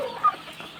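Kairali breed chickens on a poultry farm give a short, moderately loud cluck or two at close range, with no talk.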